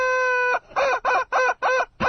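Rubber chicken toy squeezed for a gag, a long held squawk followed by four rapid honking squeaks in a quick rhythm, loud and close with no talk over it.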